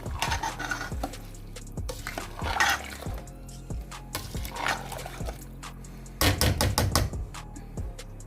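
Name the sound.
stirring rice and water in pot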